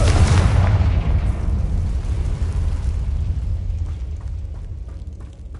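A Confringo blasting curse explodes in the Hogwarts Legacy video game: a loud, deep boom that rumbles on and slowly decays, with no voices over it.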